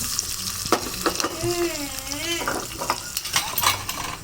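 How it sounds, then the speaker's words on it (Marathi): Curry leaves dropped into hot oil for dhokla tempering, crackling and sizzling loudly with stirring clinks of a spoon against the pan, close and busy throughout. "आता टाकूया कढीपत्ता त्याला थोडंसं टाकून घेते तोडून घेते अख्खाही टाकला तरी चालतो छान मिक्स करायचं"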